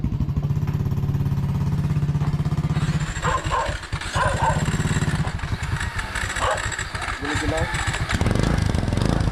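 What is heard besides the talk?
motorcycle engine warming up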